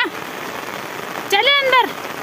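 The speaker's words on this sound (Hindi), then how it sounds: "आज तो बारिश रुकने का नाम नहीं ले रही" Heavy rain pours steadily onto surfaces in a hilly village, a dense close hiss throughout, while someone briefly speaks over it.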